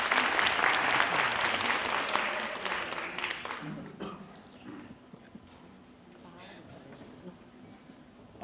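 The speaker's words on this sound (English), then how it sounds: "I just want to give a round of applause to them." Audience applause at a closing event, loud and dense for about four seconds before thinning into scattered claps and fading into a quieter room.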